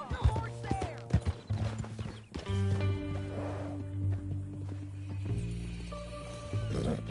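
Horse hooves clip-clop steadily in a video game, with a brief whinny, all layered under background music and people talking.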